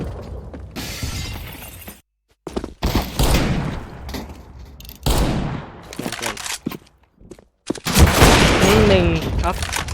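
Bursts of sharp Counter-Strike gunfire crackle in clusters, with rattling mechanical clicks and gaps of near silence between the volleys.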